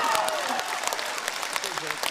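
Audience applause at a Chinese crosstalk comedy performance, a steady, fairly loud patter of clapping filling the whole moment with a voice talking over it.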